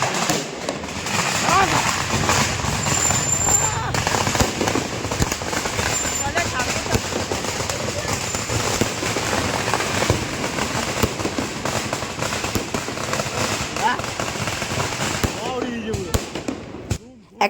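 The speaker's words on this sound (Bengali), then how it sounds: "এই যে বাজি ফাটানোটা দেখতে পাচ্ছ এটা কিন্তু অ্যাকচুয়ালি আমাদের জন্য ছিল না" Firecrackers and fireworks go off at a wedding in a continuous loud barrage of crackling bangs lasting the whole stretch, with people talking underneath.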